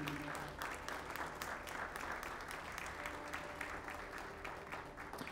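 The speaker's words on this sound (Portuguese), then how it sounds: "Dá uma salva de palmas a ele" A church congregation claps steadily at a Bola de Neve service in Itapevi, a dense sustained applause that fills the whole stretch at moderate distance with no voices over it.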